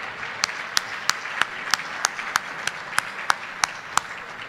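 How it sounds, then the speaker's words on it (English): A luncheon audience in a hotel dining room applauds the catering staff, a steady, moderately close patter of many hands with a few sharper individual claps standing out at regular intervals. "Can we have a round of applause for the Fairmont people for the great lunch they put on?"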